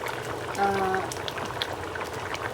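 Fish curry simmers in a pan with a soft, steady bubbling and crackle, faint and close, while a brief tone and a voice sound over it.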